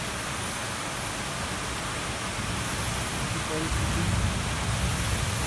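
Heavy rain with wind during a storm in Kalyan-Dombivli, a dense, steady hiss throughout that swells slightly near the end, while someone speaks over it.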